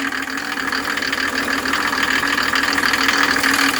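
Mercedes OM603 turbo diesel engine driving a new PN-40 motor pump, running at a steady idle with a continuous rough mechanical drone and constant loudness throughout, with no talking.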